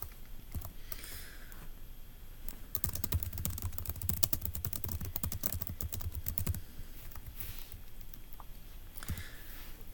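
Quiet, rapid typing of code on a computer keyboard, with irregular bursts of key clicks that are densest in the middle and thin out toward the end.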